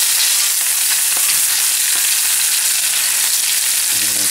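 Brown butter with thyme sizzling around cod fillets as they are basted in a frying pan, a continuous close crackle and hiss with faint spoon clinks and no talking.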